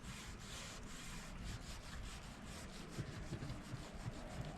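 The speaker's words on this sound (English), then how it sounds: "Some of this stuff on the door is really caked on. I'm gonna hit it with that brush." Stiff brush scrubbing caked-on residue off the door of a Camp Chef pellet grill, a quiet, continuous rhythmic scraping with repeated strokes, heard alone and close.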